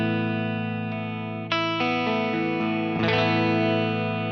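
An electric guitar plays a clean tone through a Friedman IR-J valve preamp pedal at low gain. A few sustained chords ring out, each one struck fresh and left to decay evenly. No talking.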